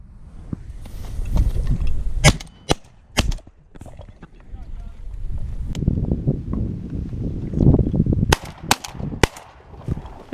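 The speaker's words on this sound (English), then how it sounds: "Good shot, Johnny." Loud shotgun blasts from a duck hunt on a California public refuge, several sharp reports in irregular bursts over wind noise and low rumble, some close together and others spaced apart.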